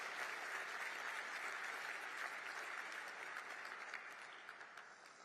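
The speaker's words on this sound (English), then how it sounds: "Sure, applaud my family" An audience at a joint appearance by JD Vance and Marco Rubio applauds the speaker's family, a dense, sustained round of clapping that fades gradually toward the end.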